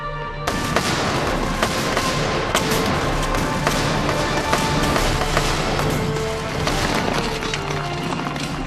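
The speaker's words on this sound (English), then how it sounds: "the French opened fire with their Charleville muskets" French troops fire Charleville muskets while marching through mist on the village of Telnitz, the battle rendered as dense continuous gunfire and booming thuds that keep going without pause, loud and layered throughout.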